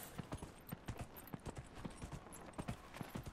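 Horse galloping in the video game Dragon Age Inquisition, a quick, uneven run of clip-clopping hoofbeats, fairly faint and heard alone.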